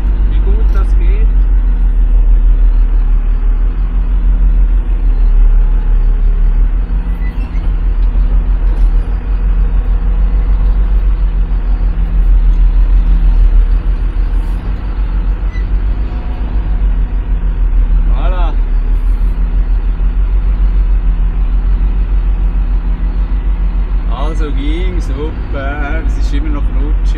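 A car driving slowly through snow gives a steady low engine rumble inside the cabin throughout, with a person talking over it.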